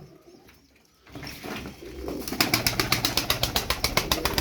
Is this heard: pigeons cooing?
yes